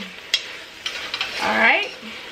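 Minced garlic goes into a soup pot over medium heat for hamburger vegetable beef soup, with a short clatter of a utensil, then soft stirring and a faint sizzle, close up and without talking.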